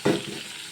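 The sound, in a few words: liver frying in oil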